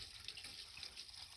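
Water gushes steadily from a tap fed by a newly installed well pump at a repaired well, a constant close hissing splash with no talk.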